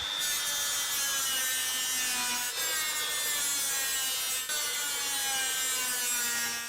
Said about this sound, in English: I will now use a flap wheel to get the remaining rust out of the spot welds.